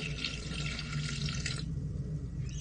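Water pours steadily from a tap into a mixing bowl for sourdough bread dough, a continuous close splashing stream that softens and thins toward the end.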